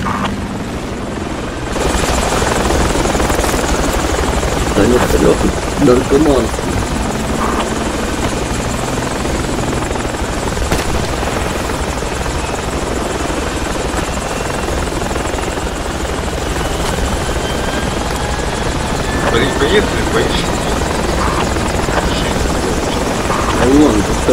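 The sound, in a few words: helicopter in Project Reality video game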